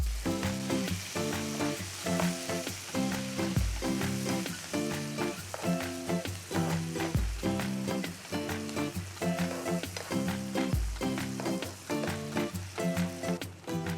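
Sour kimchi frying in a pan at a campsite gives a loud, constant sizzle, broken by regular scraping strokes of stirring in a steady rhythm, with no talk over it.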